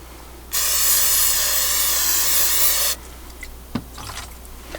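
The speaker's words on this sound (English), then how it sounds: "Just some carbon choke throttle body cleaner." Carburetor choke and throttle body cleaner sprayed from an aerosol can during a diesel fuel filter change on a Mitsubishi Fuso FG140 truck: one loud, steady hiss lasting about two and a half seconds, then faint clicks and handling noises.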